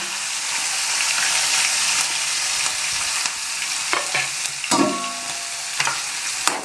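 Asafoetida, green chillies and ginger fry in hot oil in a pan for homemade shingara filling, a loud continuous close sizzle broken by scraping stirs and a few clinks of the spoon.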